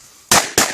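Two sharp gunshots ring out during a hunt, roughly a quarter second apart, loud and close, each with a brief rumbling tail.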